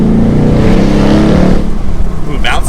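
A 2021 Ford Mustang GT Premium with a manual gearbox drives through an underpass, its loud close exhaust rumble echoing off the walls before easing off, with a brief higher burst at the end.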